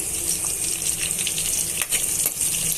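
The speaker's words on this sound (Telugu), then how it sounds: "ఇలా దోరగా వేయించుకోవాలండి" Chopped onion and green chilli fry in hot oil in a pan for Nellore-style fish pulusu. The sizzle is loud, close and continuous, with stirring scrapes and no talk.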